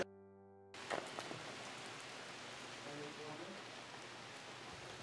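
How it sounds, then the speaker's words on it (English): Steady rain falls at night, a dense, even hiss of drops that runs without a break after a quiet opening hum. "It's raining tonight."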